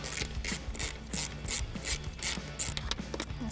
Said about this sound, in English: we have 2 8mm bolts that are holding our fuel rail in place on the manifold. So we'll go ahead, we're going to loosen those.